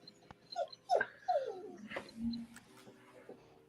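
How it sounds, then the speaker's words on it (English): A pet dog indoors whines and whimpers in a few short, rising, high-pitched cries close by, with quiet background noise and no talking. "I couldn't tell if that whining was someone's dog or Tommy"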